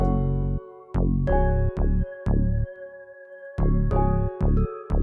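A steady beat with a deep bass line pulsing in short blocks while a plucky keyboard melody rings out on top, with brief gaps between phrases.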